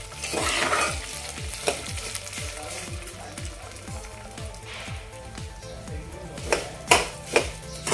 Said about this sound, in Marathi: यावरच आपण आता लापशी व्यवस्थित अशी फ्राय करून घेऊया भाजून घेऊया लालसर ब्राऊन होईपर्यंत आपण ही लापशी भाजून घ्यायची आहे